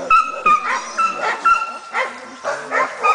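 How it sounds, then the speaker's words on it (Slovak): A hunting dog of a Nordic hunting breed barks repeatedly at a wild boar during a courage test, giving sharp, close barks with yelps in an uneven rhythm, and a person's voice can be heard in between. "Dobre, šteká, to je dôležité."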